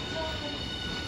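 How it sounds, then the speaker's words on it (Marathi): A Shinkansen bullet train sits at Hiroshima station, giving off a steady, close rumble with a faint high whine and no clear breaks. "ये अलग टाइप की ट्रेन है।"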